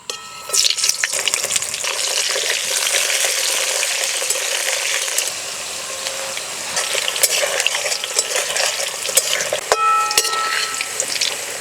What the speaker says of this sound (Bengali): মাছ ভাজার তেলেই আলু ভেজে নেব